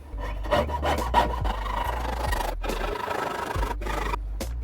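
Hand saw with a candle-waxed blade cutting a line through metal for a stacked jewelry pendant, sped up into a rapid run of close rasping strokes with brief pauses between them.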